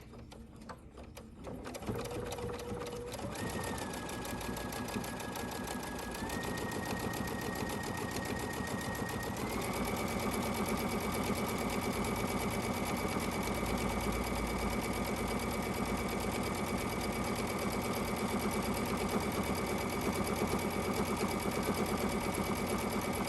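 Sewing machine top stitching a fabric ribbon candy ornament, starting up and then running at a steady, rapid, close mechanical rhythm that holds evenly to the end.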